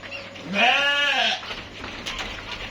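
A Dorper sheep on a farm lets out one loud, close bleat lasting under a second, followed by quieter farmyard background noise.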